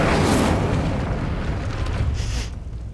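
The Incendio fire spell in Hogwarts Legacy goes off as a loud, whooshing burst of flame that roars and then fades over a few seconds.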